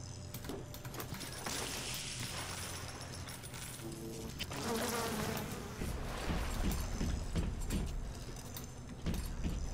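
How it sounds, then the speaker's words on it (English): Insect buzzing from bees in BioShock swells and fades over a low rumbling game ambience, with scattered clinks and shifting drones throughout. "Bees?"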